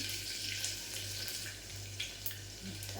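Water poured into a cooking pot holding cumin, coriander and bay leaf, a quiet steady rushing pour under a low background hum, continuous for a few seconds.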